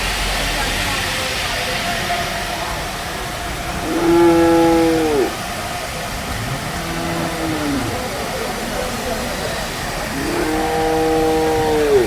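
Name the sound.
cattle, bulls and buffaloes mooing at market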